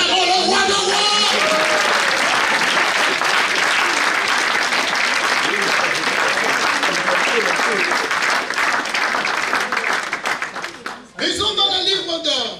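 Church congregation applauding together, a loud sustained burst of clapping that fills the room, with voices mixed in and a brief dip near the end before the clapping resumes.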